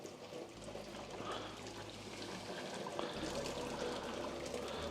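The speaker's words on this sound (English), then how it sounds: "pour some boiling water over the skin" Boiling water pours in a steady, splashing stream over duck skin in a sink for several seconds, moderately near, with a low hum underneath and no voices.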